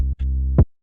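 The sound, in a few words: kick drum with stutter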